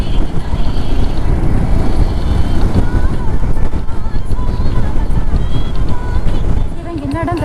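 Strong wind roars and buffets the microphone in a continuous low rumble on the Kattan Hills near Ooty during a motorcycle ride, with a voice briefly audible near the end.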